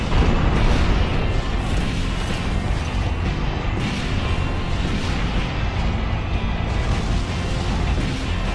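Explosion in the mecha video game Armored Core 4 as the Sol Dios is destroyed, a sustained loud roaring, crashing blast with rumbling debris that stays dense and steady for several seconds.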